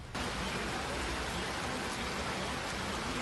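Heavy rain falling in Palmar Sur on Costa Rica's Pacific side, a steady dense hiss of downpour that stays loud and constant throughout, with no talk.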